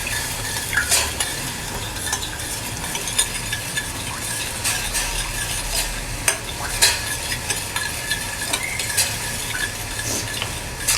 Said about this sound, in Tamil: அதில் இது நம்ம ப்ரௌன் கலர் ஆகிற வரைக்கும் கிண்டிகிட்டே இருக்கணும்